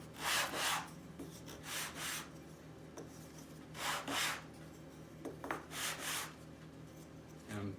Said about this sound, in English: the next thing I'm going to do is to sand that surface flat and sand that surface flat